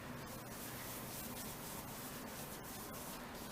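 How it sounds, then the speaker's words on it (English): Homemade carnauba wax is rubbed onto a sapele wood bowl, giving a steady, close, rasping friction hiss with faint rhythmic strokes and no talking. "Just rub it in a little bit."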